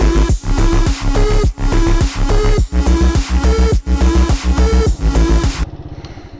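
A small Can-Am DS 70 youth ATV engine runs with a loud rhythmic putter, revving up and falling back in repeated pulses about once every half second before cutting to near quiet at the end.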